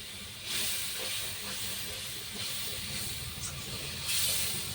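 Water poured into spice paste frying in a pan for Bengali aloo dum throws up a loud, steady hiss that carries through the whole stretch, swelling in bursts near the start and again toward the end, with no talking.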